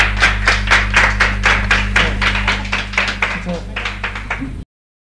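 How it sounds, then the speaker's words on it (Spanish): Audience at a talk applauds for Pedro Amorós: evenly spaced, rhythmic claps over a steady electrical hum, keeping pace for several seconds before cutting off abruptly. "Un aplauso para Pedro Amorós."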